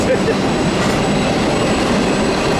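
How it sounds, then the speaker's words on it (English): A freight train rumbling past on the railway line at Fullerton, loud and close, with continuous wheel clatter and a faint high squeal over the steady roar. "So this might be a Hobart bound train."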